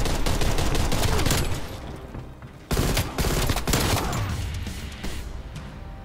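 Rapid bursts of video game gunfire in an apocalypse-map gun game match, dense and loud for the first seconds, dropping briefly, then resuming in a heavy volley that tapers off.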